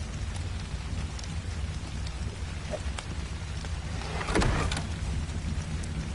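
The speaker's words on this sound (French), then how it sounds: "Ok, il pleut, mais ça gêne pas trop la visibilité." Steady rain falls in the video game ARK, a dense continuous hiss of drops on surfaces with a brief heavier gust or rumble partway through, with no talking.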